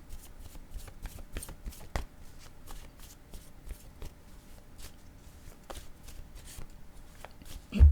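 Tarot cards are shuffled in a steady run of soft, papery riffles and taps, fairly close and continuous throughout, with no talking.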